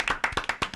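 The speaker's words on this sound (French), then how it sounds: "je crois qu'on va vous applaudir" Studio applause for a radio host on the last day of a French radio show, a brief burst of several quick, close hand claps in a brisk uneven rhythm.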